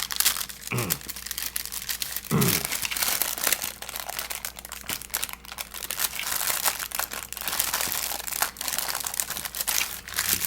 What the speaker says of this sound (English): I'm going to go ahead and try to peel some of this up a little more.